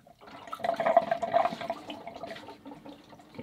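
Coolant gurgles and trickles out of a tilted water-cooled PC radiator in a soft, uneven burble with a straw-like slurp that fades over a few seconds.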